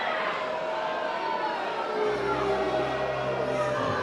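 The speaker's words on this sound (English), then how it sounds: "Crowd doesn't like it." A minor-league baseball crowd groans and murmurs in displeasure after a double play, a steady broad wash of massed voices that swells slightly midway and carries on throughout.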